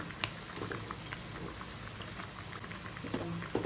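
Cutlets sizzle gently in a pan over a medium flame, a soft continuous crackle and bubbling with a few small pops, close but fairly quiet and without talking.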